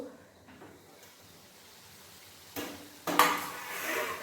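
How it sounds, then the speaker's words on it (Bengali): A pot lid is set on and lifted off a pan of sizzling chicken curry, faint frying at first, then a clattering metal clank and a louder sizzle as the pan is uncovered. "এরপর এর মধ্যে একটা ফাঁকা ঢাকা দিয়ে দেবো এরপর ঢাকাটা খুলে নেব"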